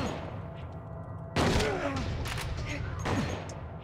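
Shotgun blasts in the survival horror game Silent Hill 2, two or three heavy booming shots spaced over a few seconds, each with a sharp crack and decaying rumble over a steady low in-game drone.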